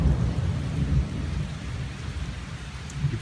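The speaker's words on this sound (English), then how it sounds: "we are getting storms" Thunder and steady rain from a passing thunderstorm, a continuous dense hiss of rainfall with low rumbling thunder swelling beneath it, close and fairly loud throughout with no voices.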